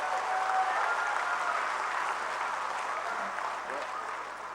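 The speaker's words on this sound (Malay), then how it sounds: "Tepukan untuk Timbalan Presiden." Applause at an UMNO general assembly for the Deputy President, a thick steady roar of clapping from a large crowd that slowly tapers off toward the end.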